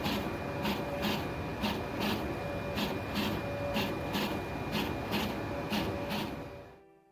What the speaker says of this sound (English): Sounds a little more like it's just digging it out now, instead of actually drilling it out.